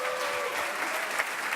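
An audience at an entrepreneurship pitch award ceremony applauds steadily, a dense wash of clapping hands held at an even level for the whole moment, with no voices standing out.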